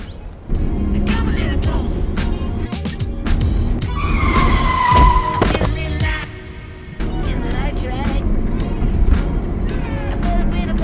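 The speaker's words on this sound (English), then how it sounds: "I can't believe you hit me with your car, Torin." A car's tires squeal in a long skid, with a mid-pitched screech rising over engine noise and scuffling thumps, a short gap, then more scraping and bumping. Voices talk under and around it.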